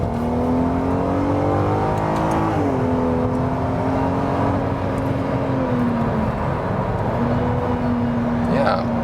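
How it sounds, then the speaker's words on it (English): A VW Golf R32 Mk4 with a naturally aspirated six-cylinder engine accelerates on a motorway, its steady engine note climbing in pitch, dropping at a gear change, then rising again under a continuous drone. "a rather harmonious acceleration from the naturally aspirated engine"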